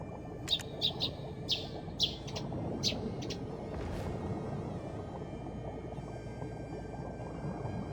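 A sparrow chirps in the online game Black Desert Online, giving a quick run of five or six bright tweets at the start. A soft bubbling, liquid ambience continues underneath and carries on alone once the calls stop.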